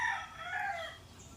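Chickens and a rooster crow and cluck together in a small backyard coop, the crowing sustained and fairly close, with no talking over it.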